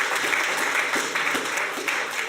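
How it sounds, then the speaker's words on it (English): A school audience claps for a panel at a question-time event, a steady round of applause with a few louder individual claps, heard alone without talk. "I need a round of applause, please, for our panel."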